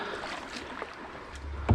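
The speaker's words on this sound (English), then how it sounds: "I think I'll be fine kayaking up this." Soft water sloshing and light splashes of a kayak paddle moving upstream through a clear river, with a gentle rush of current in the background and a thump at the end.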